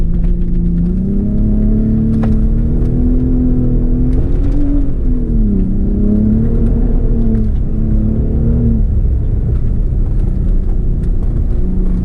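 A Ford Raptor truck on an offroad rally track gives a loud, steady engine drone that shifts in pitch as it accelerates and eases off, with continuous rumble and no talking.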